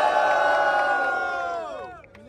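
A crowd of spectators at a Brazilian rap battle, Batalha do Coliseu, roaring and cheering with whoops and shouting for the MC Mineiro, loud and sustained before fading out toward the end.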